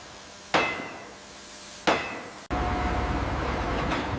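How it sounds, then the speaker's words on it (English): Large pneumatic hammer driving rivets into steel structural support beams during a warship rebuild, two sharp ringing metallic blows a second apart, then a sudden loud steady industrial din. "A large pneumatic hammer drives rivets into the structural support beams."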